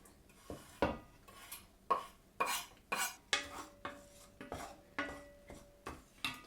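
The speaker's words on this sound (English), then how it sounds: "I didn't grate that ginger." Fresh ginger is grated in a kitchen with a dozen or so rhythmic scraping strokes, each a short rasp about every half second, close and moderately quiet, with no talking.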